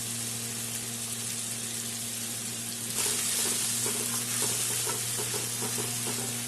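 Onion, green chili and cumin paste with Kashmiri chili powder and water cooking in a pan for a Bengali fish curry: a steady sizzling hiss that swells after the water goes in, with soft stirring scrapes, no talking and a low hum beneath.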